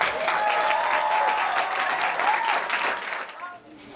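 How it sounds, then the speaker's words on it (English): Applause rises for three graduating seniors in a Chinese performance group, steady clapping mixed with voices and a whoop, full and sustained before tapering off near the end. "can we have a round of applause for Wei Yi,"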